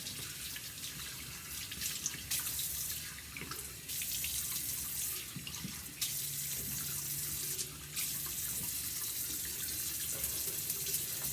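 Water runs steadily from a bathroom tap into a sink while a face is being wetted, a continuous close splashing hiss with brief changes as hands dip in and out of the stream.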